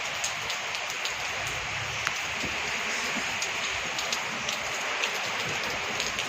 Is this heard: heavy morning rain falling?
yes